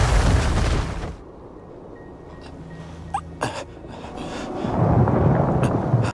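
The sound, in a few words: explosion sound effect in war film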